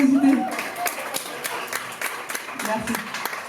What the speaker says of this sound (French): Donc vous pouvez bien l'applaudir pour sa générosité.